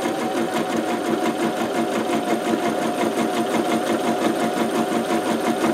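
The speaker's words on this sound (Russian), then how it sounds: "Нажимаем на педаль и шьем на единичке." A pedal-driven sewing machine stitches steadily, its close, loud mechanical whir and rapid needle chatter continuing without pause throughout.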